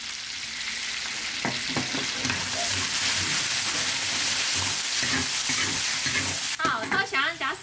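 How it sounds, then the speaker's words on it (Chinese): Ginger, garlic, green Sichuan peppercorns and spicy seasoning sizzling loudly in hot oil in a wok, a continuous crackle with a few stirring scrapes and clatters of a spatula near the end. "油烧热，放姜蒜、青花椒，"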